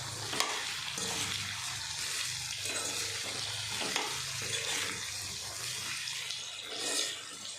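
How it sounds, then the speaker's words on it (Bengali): Potato pieces fry in a pan over a gas flame, giving a steady broadband sizzle with bursts of stirring and scraping throughout, fairly close and with no one talking. "গ্যাসের ফ্লেমটা একটু বাড়িয়ে দিচ্ছি। আলুটা ভাজা হবে,"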